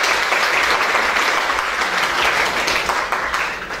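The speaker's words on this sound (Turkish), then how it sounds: "alkışlarla davet ediyoruz." Loud, dense applause fills a hospital anniversary celebration as the nursing services director is welcomed to speak, a close, continuous crowd clapping that holds steady and fades slightly at the end.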